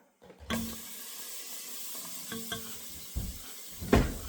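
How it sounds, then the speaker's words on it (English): Butter sizzles and crackles in a pot on a low burner, a soft steady hiss punctuated by a few sharper clinks and taps. "Now let that butter just sizzle around for a while."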